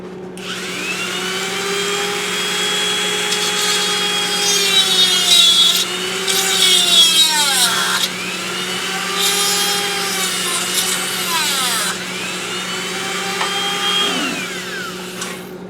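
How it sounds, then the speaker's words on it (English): A power drill bores screw holes into a rosewood peppermill blank, a loud steady whine rising and falling in pitch over several passes as the bit loads and unloads, close up and alone. "I need to drill 2 holes right there."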